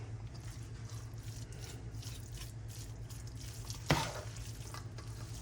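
Close, soft stirring of ingredients into a rotisserie chicken salad in a bowl, a steady low scraping and squishing with one sharper clink of the utensil partway through.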